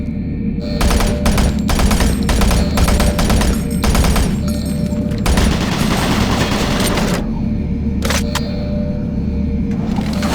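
Automated turret guns in Doom 3 hammer out long, rapid mechanical bursts, loud and close, with brief gaps between the volleys and no speech.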